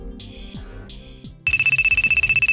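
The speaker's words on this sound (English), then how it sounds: "your phone's blowing up" A phone receiving many incoming calls rings insistently: two short electronic tones, then a loud, rapid trilling ringtone that pulses continuously to the end.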